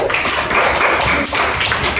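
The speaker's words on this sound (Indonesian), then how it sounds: "Tepuk tangan." Elementary school students in a classroom clap their hands together in a brisk, dense burst of applause, a close, steady patter of many small hands with no talk over it.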